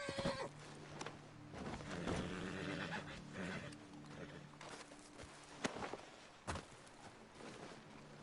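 A horse whinnies in the open world of Red Dead Redemption 2, with hoof clops and scattered thuds around it, heard fairly close amid game ambience and no speech.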